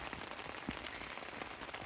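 Steady rain patters on a tent pitched on a steep Italian hillside during a bike-touring trip, a dense soft hiss with scattered brief drop taps, fairly close and moderate in level with no talk.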